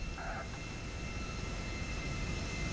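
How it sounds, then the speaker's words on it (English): An airplane lands on a building in the GTA video game, heard as a steady, broad engine roar at moderate level with a short tonal whine near the start and no talk. "I'm surprised the plane didn't stall out."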